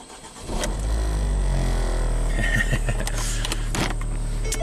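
A car with a no-crank fault, just repaired, cranks briefly and fires up, settling into a steady, loud, close idle with a few faint clicks on top.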